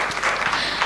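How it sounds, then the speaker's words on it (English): Conference audience applauding a session moderator, with a brief burst of dense clapping in a hall, under a second long. "A round of applause for Dr."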